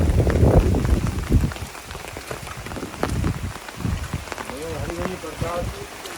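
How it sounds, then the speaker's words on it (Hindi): Heavy monsoon rain falls at a riverside hermitage on the bank of the Narmada, a dense steady patter with voices talking over it throughout. "बारिश का मौसम है, घनघोर बादल छाए हुए हैं"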